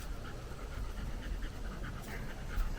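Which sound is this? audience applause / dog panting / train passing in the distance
dog panting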